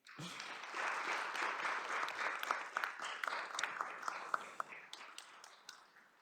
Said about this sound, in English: each and every person in this panel is worthy of your grand applause